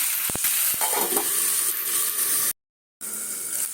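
Vegetables for a prawn and banana flower dish sizzle and fry in a pan, a steady hiss broken by a few sharp stirring clicks near the start and a brief cut, with no talk.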